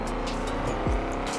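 A BMW E92 M3 in Forza Horizon 4 drives with a steady, loud engine drone at high revs, a brief pitch swoop briefly cutting through the constant sound.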